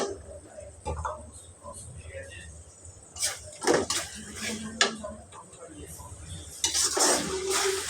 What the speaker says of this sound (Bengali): আদা বাটা, রসুন বাটাটা পেঁয়াজের সঙ্গে ভালোভাবে নাড়াচাড়া দিব।